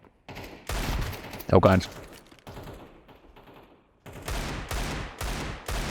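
Desert Eagle pistol gunfire in a video game rings out as loud, rapid shots in several bursts, with a brief spoken exclamation between them.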